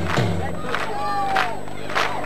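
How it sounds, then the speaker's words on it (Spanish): Crowd clapping in time to a cumbia beat at a Mate y Cumbia gathering, a dense steady rhythm of palms with scattered voices and shouts over it, fairly close and lively. "Paramos, paramos, solo las palmas."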